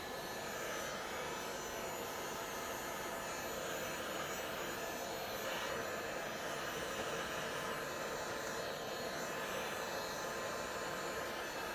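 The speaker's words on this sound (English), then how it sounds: "Now I'm going to give it a bit of heat with my heat gun." A heat gun on its low setting blows steadily over resin coasters, a faint, even airy hiss and hum that holds unchanged throughout, with no speech.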